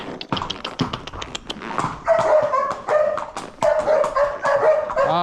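Several dogs bark and yip close by in quick bursts, some high-pitched and whiny, at a horse stable in the Atlantic Rainforest before a trail ride.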